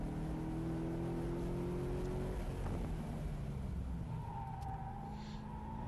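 A Corvette race car's engine drones through the gears during a time attack lap at Eagles Canyon Raceway, its pitch climbing then dropping under braking, steady and moderately loud from inside the car.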